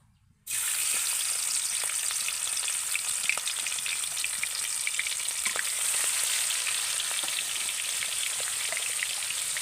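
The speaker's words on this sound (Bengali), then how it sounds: "এবার আমি চিংড়ি মাছগুলোকে তেলের মধ্যে দিয়ে ভেজে নেব" Prawns fry in hot mustard oil in a wok, a steady dense sizzle that starts abruptly after a brief quiet moment and continues loud and close with scattered crackles and pops throughout.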